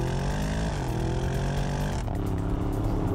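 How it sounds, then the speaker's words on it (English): Porsche Cayenne Turbo S E-Hybrid Coupe with V8 and optional sport exhaust drones loudly and steadily, pitch easing down then shifting in a short, continuous engine note. "the engine note, especially the optional sport exhaust system, is a symphony"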